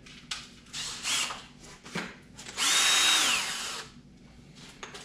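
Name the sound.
power drill with 1 inch bit drilling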